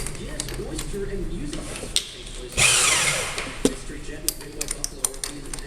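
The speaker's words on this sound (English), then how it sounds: "So I'm just using a stub drill here." A stub drill on a lathe bores into metal with a brief bright whirring burst, surrounded by clicks and clatter of a machine shop while a person talks.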